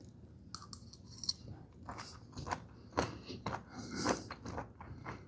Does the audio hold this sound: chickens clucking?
no